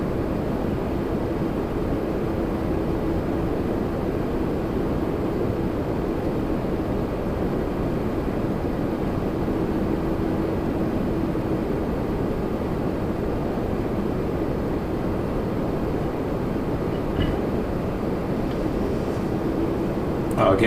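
An Endeavor CRJ-700 regional jet from Detroit at Toronto Pearson, heard as a steady, broad, continuous roar of engine noise lasting throughout, with a faint voice partly buried underneath.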